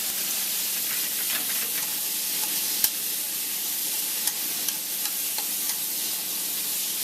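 Sauce for chicken lettuce wraps heating in a pan, a steady close sizzle and hiss with occasional faint clicks of a spoon or utensil, no talking.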